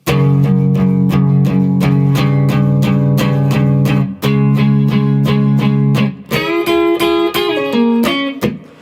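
Loud distorted electric guitar power chords struck in a steady run of repeated hits, then shifting to sustained chords with a bending lead line, with no voices.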